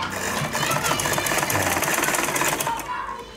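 A Butterfly sewing machine, freshly cleaned, runs steadily while stitching fabric on a pair of trousers, giving a continuous rapid mechanical whir and clatter at close range.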